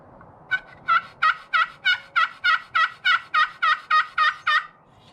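A turkey pot call worked with an Osage striker on a laminate surface gives a rapid series of about thirteen sharp, high-pitched yelps in an even rhythm, loud and close, with nothing else audible.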